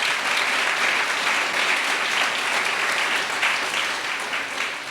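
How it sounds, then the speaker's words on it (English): Steady applause from the audience at a grand opening for an apartment tower, dense and continuous clapping throughout with no talk over it. "a little round of applause from"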